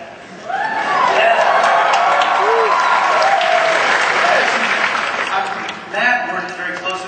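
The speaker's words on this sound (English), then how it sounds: "Clap, clap, clap. Clap doubly just for you." A Comic Con panel audience breaks into loud, sustained applause that swells after a brief quiet start and holds steady, with a few cheers, before tapering slightly near the end.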